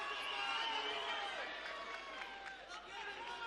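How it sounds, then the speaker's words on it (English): An MMA event crowd in a show center makes steady, distant noise, a murmuring roar with scattered shouts while a commentator talks over it. "The crowd at the show center making some noise."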